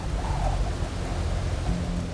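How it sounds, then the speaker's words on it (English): A typhoon storm roars with strong wind and heavy rain, a dense, continuous low rumble of downpour and gusts with no break. "It was a terrible night for the stormy weather, strong wind, heavy rain."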